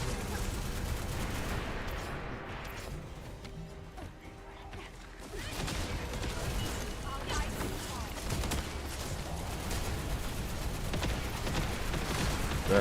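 Ice bullet gunfire in The First Descendant video game, dense rapid automatic shooting with crashes and impacts layered over game noise, with some talk underneath.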